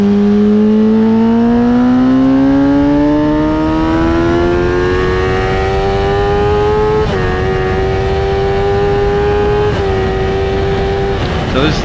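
A race car runs hot laps at Highland Park Raceway with its engine close and loud. It climbs steadily in pitch through the gears, with quick shift breaks and a sustained high drone through the turns.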